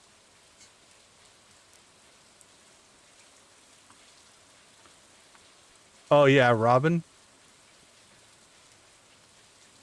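Rain in Stardew Valley: a faint, even patter of rainfall runs throughout, with someone speaking briefly midway.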